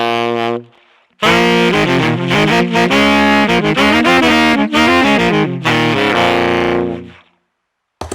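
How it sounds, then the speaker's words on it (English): Saxophone played through a Line 6 HX Stomp's Timmy overdrive emulation gives a distorted, bright, buzzy tone, with a short opening note, a brief gap, then a loud phrase of sustained melodic notes before stopping. "is a recreation of a famous pedal in Nashville called the Timmy"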